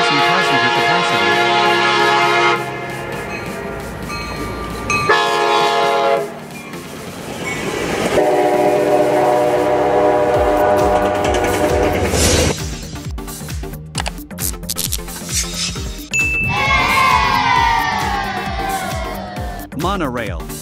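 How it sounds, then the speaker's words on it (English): Double-decker passenger train running along rails, with long loud horn blasts, steady rumbling wagons and clickety-clack over the track, close and continuous throughout. "A double-decker train is a type of large-sized railway vehicle that carries two levels of passenger accommodation"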